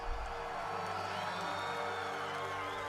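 A large crowd at a Nightwish live concert roars and cheers as one steady, dense wall of sound, distant and reverberant, with music droning underneath.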